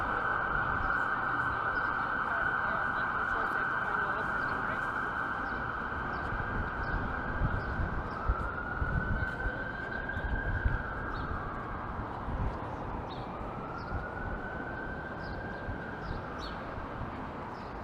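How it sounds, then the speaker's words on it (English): A distant siren wails steadily over a busy downtown Toronto street hum, its pitch sweeping up and down in slow cycles. "Wouldn't be a downtown walk without sirens."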